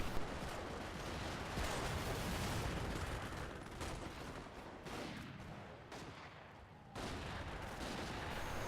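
Rifle fire in a strategy video game crackles in dense, continuous volleys with heavy booming bursts, loud and sustained throughout.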